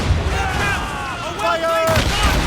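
Ship cannons firing in an Assassin's Creed Rogue naval battle, a run of booming shots over steady rumbling background with a mid-pitched tonal layer from the game's score and effects, continuous and fairly loud throughout.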